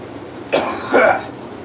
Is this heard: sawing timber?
no